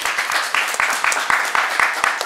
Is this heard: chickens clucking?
no